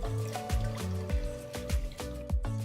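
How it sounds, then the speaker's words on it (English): Water pours into a white saucepan, a steady trickle broken by a regular series of sharp knocks or clinks, close up, with no talk. "pour enough water"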